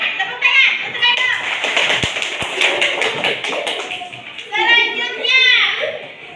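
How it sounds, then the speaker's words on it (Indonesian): A fourth-grade elementary school class breaks into a burst of quick, loud hand claps, close by, with children's voices chanting and calling out over it. "tepuk tangan untuk Eno."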